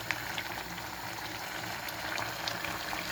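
Curry bubbles gently in a pot as it heats, a steady soft simmer with small popping bursts, fairly quiet and without any talk.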